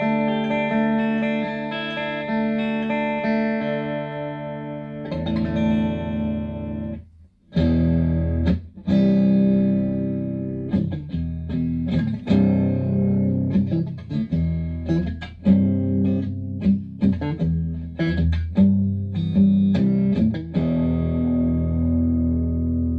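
An electric guitar plays chords through two linked Marshall JTM Studio ST20 amplifiers, producing a doubled, slightly detuned note character; strummed chords ring out with gaps and a brief pause, loud and up close.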